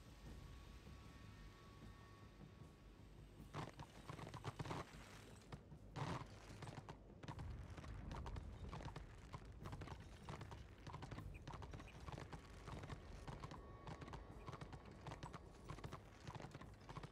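Horse hooves gallop in the Warhammer Online video game, a steady, continuous clip-clop with a rushing, rain-like ambient bed and no talking.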